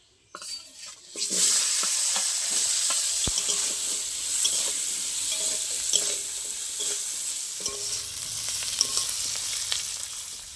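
Chopped onions dropped into hot oil already fragrant with bay leaves and tempering spices, sizzling steadily with a sharp start and occasional stirring clatter close by, preparing a Bengali mutton liver kosha.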